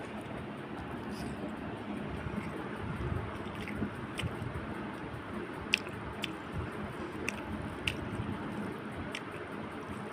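Wet, squishy chewing and biting close up as fresh fish is eaten, a continuous moist mastication with occasional sharper crunches.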